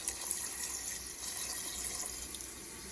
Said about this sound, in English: put some more water in here